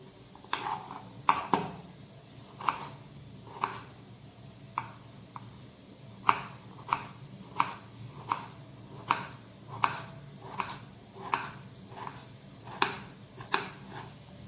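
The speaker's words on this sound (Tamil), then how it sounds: "இப்போ எல்லா உருளைக்கிழங்கும் நல்லா கட் பண்ணி எடுத்தாச்சு" A knife chops potatoes into medium pieces on a board, a series of crisp, evenly spaced thuds roughly once per second, close and fairly quiet against a faint background.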